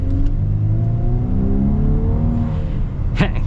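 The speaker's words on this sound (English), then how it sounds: "Turbo blow off" A 2024 Volkswagen Atlas SUV engine drones steadily and loudly as it accelerates, with a sharp turbo blow-off hiss bursting out near the end.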